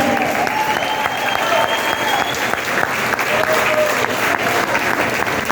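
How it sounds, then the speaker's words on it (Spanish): A church congregation claps loudly and continuously for the Lord during an evening worship service, a dense close wash of applause lasting several seconds with some voices mixed in. "Vamos, fuerte ese aplauso para el Señor."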